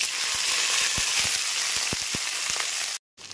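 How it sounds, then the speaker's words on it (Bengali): Cut okra sizzles in hot mustard oil, a loud, dense frying hiss with scattered pops and small knocks, cutting off abruptly just before the end. "তেলটা এখানে খুব ভালো মতো গরম হয়ে গেছে। এরপর ধুয়ে কেটে রাখা ঢ্যাঁড়সগুলোকে দিয়ে দিচ্ছি"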